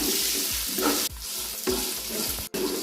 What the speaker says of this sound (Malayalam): രണ്ട് സവാളയാണ് ചേർക്കാൻ പോണത് അത് ചേർത്ത് കൊടുക്കാം ഒന്ന് വഴറ്റാം